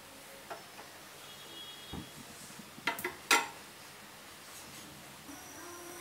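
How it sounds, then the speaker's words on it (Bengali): A metal wok is set down on a stove with a couple of quiet clanks and a sharper metallic knock, faint against a low room hiss. "এখন একটা কড়াই বসিয়ে দিলাম।"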